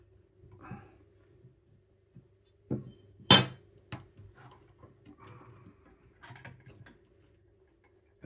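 The anti-reversal latch in a Cybergun polymer Scar L airsoft gearbox clicks in sparse, sharp ticks during hand disassembly, with one louder snap near the middle among quieter taps.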